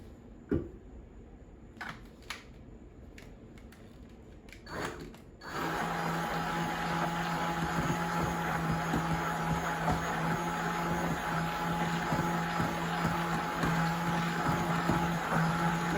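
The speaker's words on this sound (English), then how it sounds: "immersion blender to blend it up." A few scattered clicks and clatters, then an immersion blender switches on and whirs steadily, a continuous buzzing drone running close by while blending yogurt.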